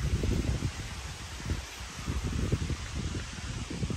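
Leaves rustling in the wind outside a centuries-old Mahadevar temple, a steady soft broadband hiss with gentle gusty swells throughout, no voices.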